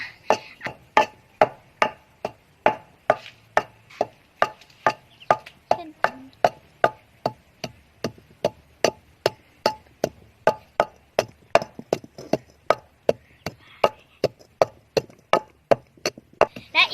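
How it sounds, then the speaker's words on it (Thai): Fertilizer being pounded fine in a mortar for caladium plants: a long, steady run of sharp thuds, about two per second, close and fairly loud, with no talking. "ก็ตำอยู่ตอนนี้แล้วก็ตำอยู่นะคะตำให้มันแหลก ๆ"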